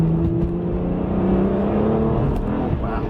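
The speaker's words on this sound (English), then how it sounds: "Wow, this car just accelerates" A BMW 1M accelerates hard, its engine note rising steadily in pitch from a loud, close in-cabin perspective, the drone continuous throughout.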